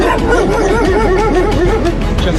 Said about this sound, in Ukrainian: Ці собаки приїхали з Херсонщини.